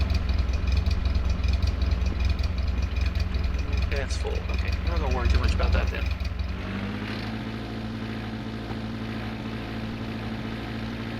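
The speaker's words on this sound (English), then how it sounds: "Shut this engine off so we can hear." A steady car engine idle in the video game The Long Drive drones under a person talking, then shuts off partway through, leaving a quieter hum.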